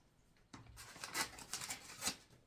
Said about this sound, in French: j'ai un peu trop de papier, on va couper.